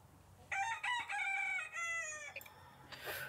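A person imitates a hen, giving a loud, close series of squawking, clucking calls that build into a crow-like cry, with short breaks between them.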